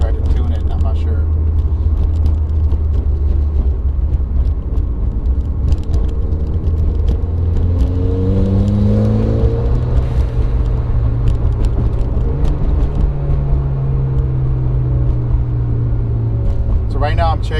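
A Mitsubishi Evo X MR with a Kozmic clutch runs on a dyno, a loud low engine drone with rising pitch sweeps that drop back as gears shift. The rumble is steady throughout.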